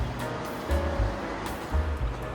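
The Lao River flows past the village of Papasidero in Calabria, a steady broadband rush of moving water with low surging swells, continuous and fairly close, with no voices.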